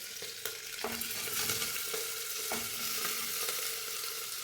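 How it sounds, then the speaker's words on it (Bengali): Lentils and mutton go into a hot pan of oil, green chilies and spices for halim, setting off a steady loud sizzle with a few soft clinks and stirring scrapes across the frying. "এবার এর মধ্যে আমি ডাল আর মাংস রেখেছিলাম সেটা অ্যাড করে দেবো"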